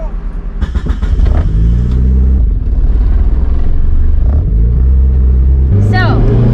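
Mitsubishi Evo making a full-throttle pull in Florida, a loud close engine roar climbing steadily in pitch through gear changes, with a sharp whine near the end.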